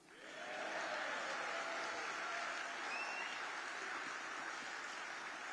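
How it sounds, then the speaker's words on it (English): Sustained audience applause at a Reform UK political speech, rising quickly after a brief pause and then holding as a dense, even wash of clapping from a large crowd. "You can clap for that."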